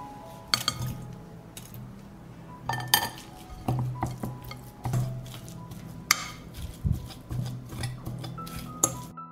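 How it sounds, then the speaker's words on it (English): A fork scrapes and clinks repeatedly against a dish while shredding drained canned sardine, with irregular close metallic taps and scraping strokes and no talking. "now I will shred it with a fork"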